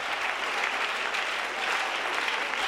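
Congregation at a church prayer gathering breaks into steady, dense applause and acclamation, a sustained wash of clapping that holds at an even level throughout with no clear voices on top.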